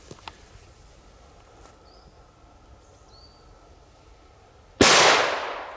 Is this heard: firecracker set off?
yes